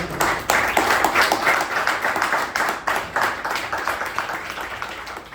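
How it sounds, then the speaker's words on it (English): An audience at a meeting breaks into a dense round of applause, many hands clapping at once in a steady, close wash that swells and continues for several seconds without any voices on top. "we should give first of all a bigger round of applause for Shiva and Shivaprasad"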